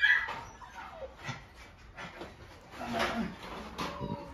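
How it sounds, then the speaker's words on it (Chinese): A litter of young golden retriever puppies at a dog seller's whimpers and yips in short, scattered bursts close by, mixed with background voices and some handling noise. "这边牧这边还有一窝小金毛"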